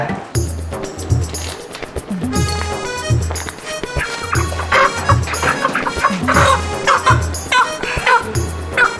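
Chickens cluck repeatedly in short bursts nearby, with scattered background clatter and faint voices.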